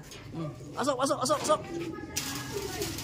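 A pigeon coos in a short warbling burst, close by, with a person talking over and around it.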